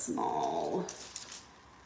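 A dog growls and whimpers close by during an indoor crafting session, a short rumbling vocalization that fades into faint whines and a few soft knocks.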